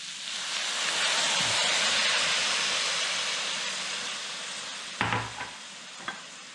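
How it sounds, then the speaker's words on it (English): Vegetable broth is poured into a pan of sizzling cabbage and smoked sausage, giving a loud, steady sizzle and hiss that swells and slowly fades, followed by a few clinks and stirring knocks near the end. "Now I'm going to add the veggie broth"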